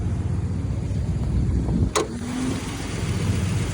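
A Dodge Ram 1500 truck's 5.7-litre Hemi V8 idles with a steady low rumble, close by, with a brief higher whine midway; the truck has about 276,000 km on it.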